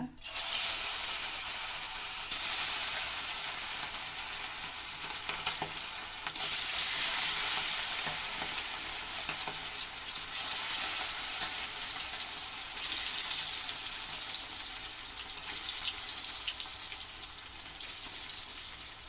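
Marinated chicken kabab pieces fry in a pan with a loud, continuous hissing sizzle that swells and eases over a long stretch, with a faint voice briefly underneath.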